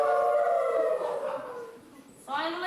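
Children in a school play imitate wolves howling, several young voices holding long wavering howls that fade and rise again near the end.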